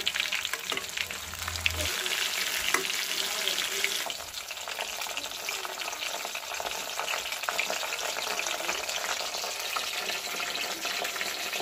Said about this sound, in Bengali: মিষ্টি কুমড়াটা উল্টিয়ে দেব